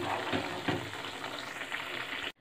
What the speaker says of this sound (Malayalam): ഏകദേശം ഒരു 10 മിനിറ്റോളമായി നമ്മളിത് ഇളക്കിക്കൊണ്ടിരിക്കുന്നു.